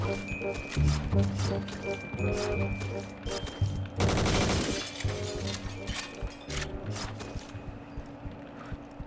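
MX4 G gun firing in Point Blank, a rapid, dense burst of automatic shots near the middle over busy game music and effects, with someone talking throughout.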